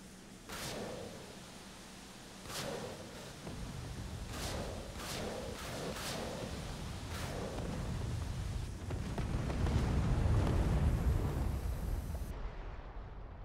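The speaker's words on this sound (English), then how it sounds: "press the stick's weapon release button to fire rockets" Rockets launched one at a time from an FMA IA 58 Pucará attack aircraft in a South Atlantic flight simulator, a series of sharp whooshing launches over steady engine drone, followed by rumbling impacts as the plane pulls out.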